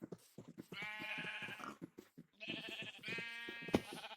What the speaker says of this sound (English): Okay, so now we've got our sheep here.